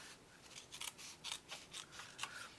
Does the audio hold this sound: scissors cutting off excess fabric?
yes